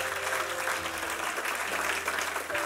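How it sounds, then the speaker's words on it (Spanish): A church congregation applauds during a Spanish-language sermon, sustained clapping with a faint crowd murmur and a low background hum running beneath it. "Dese un aplauso a usted porque usted sigue los mandamientos del Padre."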